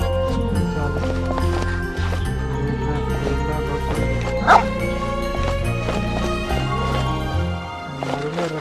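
A dog barking in the video game Genshin Impact, with a few short barks heard under continuous game music and someone talking over the gameplay.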